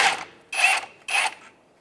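Three quick ratcheting bursts from a socket wrench as a 13 mm coil spring bolt comes off a 1992–1996 Ford F-150 front suspension, close and fairly loud, with short pauses between strokes and no voices.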